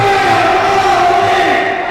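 A pro wrestling crowd cheers and yells together, a loud, dense roar of voices held close and steady for a couple of seconds.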